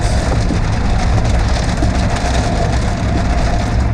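Heavy rain drums steadily on a moving car during a yellow rain warning, a dense, loud, unbroken hiss and patter over a low road rumble that never lets up.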